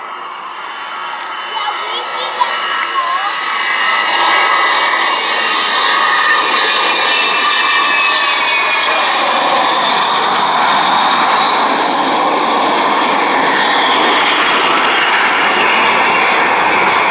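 Avro Vulcan XH558 jet bomber passing along the crowd line at an air show, its engines building from a distant rumble into a loud, sustained roar that fills the rest of the pass with a broad, even howl.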